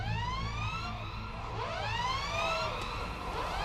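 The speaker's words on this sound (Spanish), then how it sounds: "A las afueras de la ciudad, los aullidos de las sirenas recibieron a Ana." Air raid sirens wail on the outskirts of a town in the World War I video game Valiant Hearts, several overlapping rising and falling tones sounding loud and steady with no speech.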